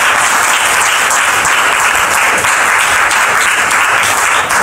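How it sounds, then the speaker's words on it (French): Loud, continuous applause from a church congregation, a thick unbroken roar of many hands clapping at full intensity. "vos applaudissements ne sont pas à la hauteur"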